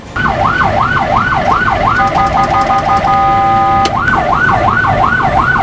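A loud wailing ambulance siren sweeps up and down continuously, briefly switching to a rapid yelp pattern before returning to the slow wail, with traffic noise underneath.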